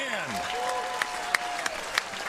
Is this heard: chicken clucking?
no